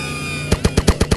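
A gun in a video game fires a quick burst of about seven sharp, evenly spaced shots up close, loud and clear after a half-second of quiet, steady hum.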